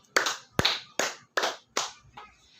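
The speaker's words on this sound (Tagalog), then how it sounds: "Bigyan natin siya ng 5 palakpak" A class gives five sharp, evenly spaced group claps in a steady rhythm, followed by a fainter sixth clap, in a quiet room.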